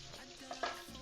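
Veggie chili heats quietly in a pan, a faint brief sizzle with light stirring scrapes, with no voices.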